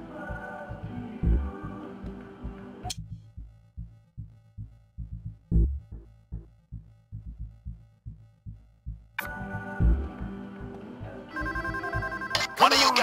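A telephone rings in a bank during a Payday 2 heist, with repeated regular rings over a thumping rhythmic game soundtrack and stretches of busy music, loud and close.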